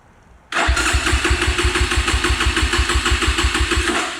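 A cheap Amazon dirt bike engine catches after kickstarting, bursting suddenly to life and settling into a loud, rapid, pulsing idle heard up close.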